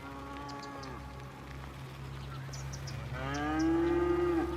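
Cows mooing in the city-building game Cities Skylines, two long drawn-out lowing calls, one at the start and a louder one near the end, over a steady low ambient hum.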